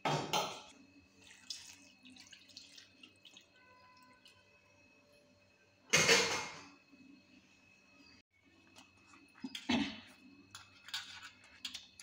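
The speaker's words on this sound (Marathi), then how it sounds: "असे धुवून घ्यायचे पानं देठ काढून." Taro leaves with the stems removed are washed by hand in water. Splashes and swishes come in a few distinct bursts over a steady faint hum, close by, with no talking.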